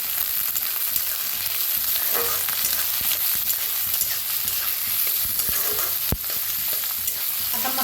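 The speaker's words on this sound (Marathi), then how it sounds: "त्याच्यातच टाकूया काजू मिरची" Cashews and green chilies frying in hot oil in a pan, a steady close crackling sizzle with scraping stirs and a sharp clink around the middle.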